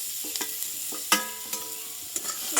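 Raw grated potato frying in a pan with faint sizzle, stirred in a few distinct scraping strokes and clinks of a spatula against the pan, close and moderately loud.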